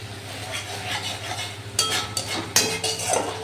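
A spoon scrapes and stirs thick egg curry masala with sugar in a hot pan, with a soft steady sizzle and a few louder clinks against the metal toward the end.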